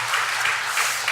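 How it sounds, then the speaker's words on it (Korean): Applause from a church congregation at an afternoon worship service, a steady dense patter of many hands clapping at moderate level throughout the short stretch, with no voices standing out. "우리 서로에게 격려의 박수로 참 수고했다고, 잘하셨다고 격려했으면 좋겠습니다"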